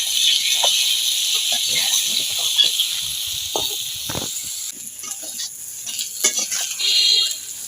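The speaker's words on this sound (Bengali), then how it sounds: "এবার ভালো করে সবজিগুলো ভেজে নেব।" Sweet potato and green banana fry in a pan for shukto, with a steady, hissing sizzle throughout. Scattered soft scrapes and taps of stirring sit on top of the sizzle, close and fairly loud.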